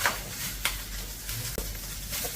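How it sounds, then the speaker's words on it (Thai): Curry paste stir-frying in oil over low heat, a steady soft sizzle with occasional scraping stir strokes, fairly close and without talk. "ในการผัดน้ำพริกแกงนะคะ ใช้ไฟอ่อนนะคะ"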